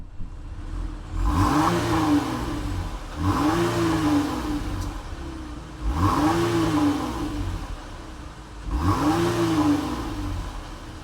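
A 2023 Dodge Durango GT with a V6 and functional dual exhaust revved four times in steady succession, each rev climbing and falling back to a rumbling idle, close by and loud.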